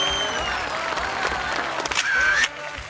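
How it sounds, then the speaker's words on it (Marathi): Loud applause and cheering from a studio audience for a woman performer on a Sun Marathi women's show, a dense continuous clapping wash with a brief whistle-like tone near the end. "जोरदार टाळ्या होऊन जाऊ दे."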